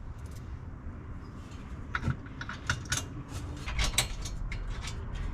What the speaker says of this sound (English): And I'll just go ahead and get all these screws in here.